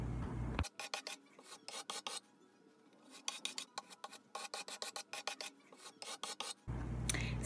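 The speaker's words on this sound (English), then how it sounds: "I just sanded the desk to make it super smooth for painting" Wooden desk being sanded smooth by hand, a quick rhythmic run of rasping back-and-forth strokes in clustered bursts, close but fairly quiet, with no speech.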